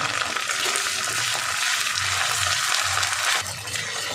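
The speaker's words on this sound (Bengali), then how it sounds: "আদা বাটা 1 চামচ দিয়ে ভালো করে এটাকে কষাবো" Onion, garlic and ginger paste sautéing in a pan over medium heat, a steady broadband sizzle with soft stirring scrapes running the whole time, easing slightly near the end.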